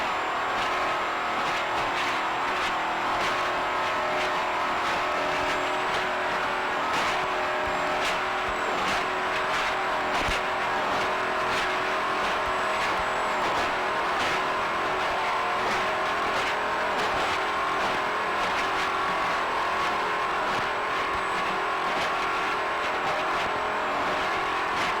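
Onboard a P4-class race car in the 2006 St. Clair race on the opening lap: a loud, steady engine roar with rising and falling revs throughout, broken by brief tire squeals and skids, with no talking.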